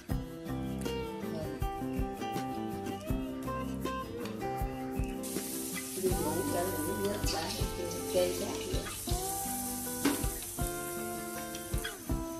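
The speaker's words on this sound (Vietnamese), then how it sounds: "mình bắt đầu mình chiên các bạn." Battered breadfruit fries in hot oil with a bright, continuous sizzle that builds partway through. The sizzle runs under melodic background music.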